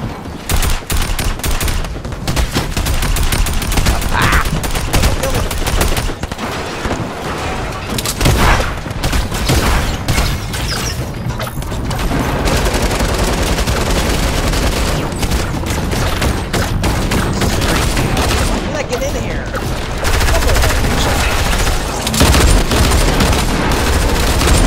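Rapid SMG gunfire from a Fortnite team match, sustained bursts running almost continuously at close range with booming hits mixed in and brief lulls between volleys.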